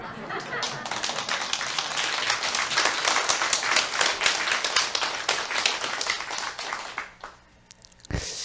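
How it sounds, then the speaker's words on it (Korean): Sparse applause from a seminar audience in a hall, a scattering of claps running steady for several seconds before thinning out, with a brief thump near the end. "박수가 좀 적었어."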